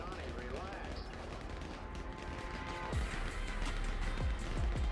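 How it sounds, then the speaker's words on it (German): Gunfire in a GTA roleplay game crackles in several quick, booming shots amid game noise and vehicle sounds, heard mid-distance under a busy mix with players talking over it. "Die schießen auf mich."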